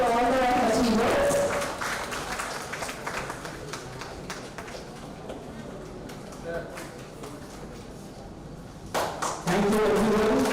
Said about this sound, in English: A big round of applause for all the achievers.